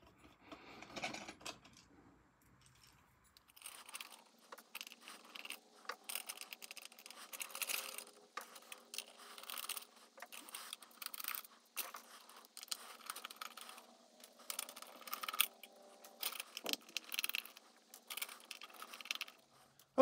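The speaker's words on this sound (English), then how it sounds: "There are 10 screws that we're going to have to remove." Small screws being unscrewed and pulled from a plastic frame, ten in all, with repeated light scratching, clicking and scraping from close by after a quiet start.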